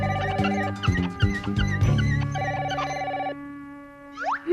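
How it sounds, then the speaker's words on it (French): A telephone rings in a cartoon scene, giving a series of bright, rapid bell trills in quick bursts, loud and close, before stopping and leaving a short swooping sound at the end. "Mince, le téléphone!"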